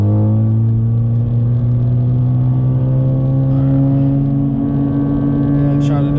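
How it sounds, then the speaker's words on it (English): Loud car engine holding a deep, steady droning rumble with strong low harmonics that rise slightly in pitch as it revs, close and continuous throughout. "His car is loud, so you can't hear it."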